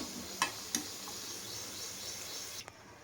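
Manchurian balls deep-frying in oil over a medium flame, giving a steady, faint sizzle with a few brief sharp crackles and pops near the start and a short clatter near the end.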